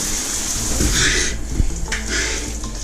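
A cold shower runs steadily, water spraying and splashing with a broadband hiss that swells and dips briefly, up close and with no talking.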